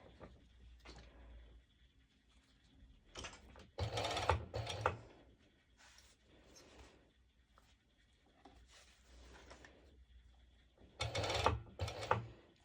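A sewing machine stitches along the seam of a long-sleeved crop top in several short bursts, each a quick mechanical whir separated by pauses of quiet, close and fairly soft.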